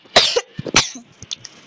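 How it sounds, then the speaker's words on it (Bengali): A person coughs: two hard, loud bursts close together, then a few smaller throat-clearing coughs trailing off, close to the mic with no talking. "কাশি ফিরে গেল।"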